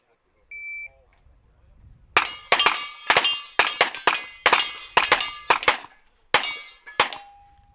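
A timer beep, then a rapid series of sharp gunshots and metallic clangs as steel popper targets are hit in a shooting competition shoot-off, loud and close, with short uneven pauses between shots.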